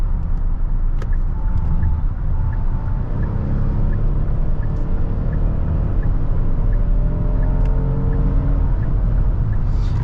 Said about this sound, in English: Let's go ahead and put it back in sport mode and downshift.